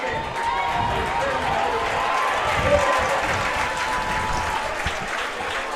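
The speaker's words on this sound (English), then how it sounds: "the crowd noise from this Richmond Randall contingent" Crowd noise from Richmond Randle supporters in the stands at a high school football game against Iowa Colony, a steady roar of applause and cheering that holds throughout, with a commentator's voice faintly audible over it.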